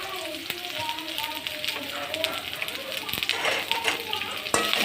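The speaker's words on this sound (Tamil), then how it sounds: "அதை கட் பண்ணி போட்டு அதோட போட்டு நல்லா வதக்குங்க" Chopped onion sautéing in a pan crackles and sizzles at moderate volume, with spatula scrapes and taps breaking the steady frying, and a voice talking intermittently over it.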